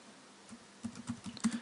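A computer keyboard clicks with a burst of quick, light keystrokes, sparse at first and then denser, close and fairly quiet with no talking.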